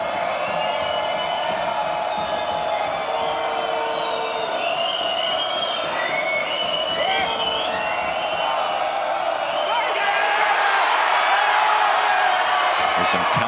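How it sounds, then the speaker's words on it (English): A large arena crowd at the 2017 IWF Weightlifting World Championships, men's 105+ kg clean and jerk, keeps up a continuous roar of cheering and whistles that swells toward the end, with commentators talking over it. "this place is cheering for the right reasons now"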